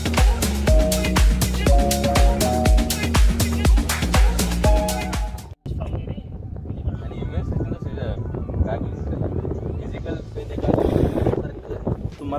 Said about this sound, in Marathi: तुम्हाला दिसू शकतं की किती वारा सुटलाय